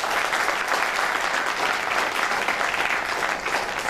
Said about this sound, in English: a huge round of applause for all of us.